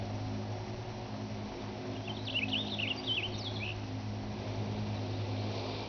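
Birds sing outdoors beside a stream, a short burst of thin, high chirping trills in the middle of a steady low hum and broadband background wash; the calls are faint and fairly distant, and no one speaks.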